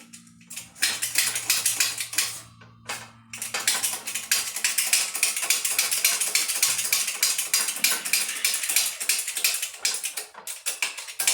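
A ratchet clicks rapidly while turning a pressing bolt to press a part into an all-wheel-drive transfer case, close and sharp, in bursts with a brief pause, no talking.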